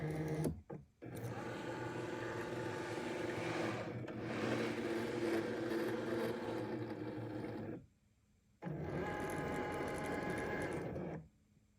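A Cricut cutting machine loads a mat and reads it, producing a steady mechanical whir that runs for several seconds, pauses briefly, then resumes. The sound is close and fairly quiet.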